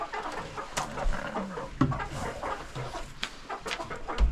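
Hens cluck inside a farm chicken coop during cleaning day, a busy overlapping chorus of short clucks and murmurs with scattered thumps and rustles, fairly close and with no talk.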